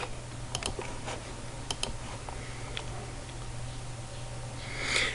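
Sparse clicks from a computer keyboard as a username and password are typed for a website login, a few scattered keystrokes over a steady low hum, with no talking.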